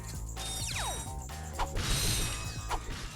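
Bolt pickups in Ratchet and Clank (2002) on planet Quartu: bright rising metallic chimes and mechanical clinks cascading over game music and rumble, with a few sharper clanks and thumps.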